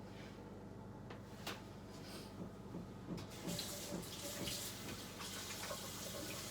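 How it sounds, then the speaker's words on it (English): Hands washed under a steady stream of tap water at a kitchen sink, a constant close rush with a few small knocks and splashes, no voices. "I'm just washing my hands and getting ready to make the dinner"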